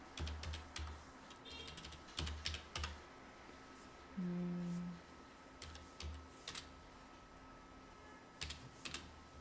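Computer keyboard typing in bursts of quick clicks separated by short pauses, close and fairly quiet, ending in a keystroke combination; no talking.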